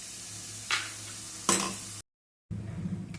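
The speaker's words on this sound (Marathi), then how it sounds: "पण तेलातून छान परतून काढत आहे" Chivda ingredients fry in oil in a pan, a soft continuous sizzle with two brief louder scrapes as they are stirred, then a short silent gap before the frying hiss resumes.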